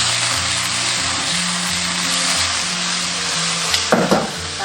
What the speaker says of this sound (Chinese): 然后下入牛蛙煸炒